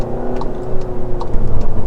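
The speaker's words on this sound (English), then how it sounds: "The exhaust sounds louder than the one in the Cupra Ateca" A SEAT Leon Cupra hatchback in Cupra mode gives a loud, close, deep exhaust drone that rises and falls as the engine pulls, with no voices over it.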